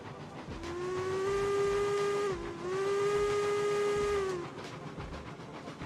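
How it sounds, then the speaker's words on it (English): A deep, throaty steam train whistle in a video game sounds in two long sustained blasts with a brief dip between them, loud and close, with no talking. "God, I love how throaty this whistle is compared to some of the whistles."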